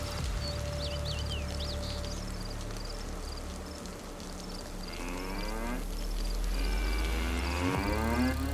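A cow in the video game DayZ lets out a long, low moo that swells through the second half over a steady outdoor ambience with faint bird-like chirps, moderately close and unaccompanied by talk.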